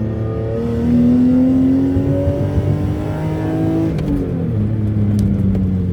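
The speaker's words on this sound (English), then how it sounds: "that was a second gear pull." BMW E39 with an M54 engine pulling uphill in second gear, its loud, close engine tone climbing steadily for several seconds and then dropping sharply at the shift, with no talking.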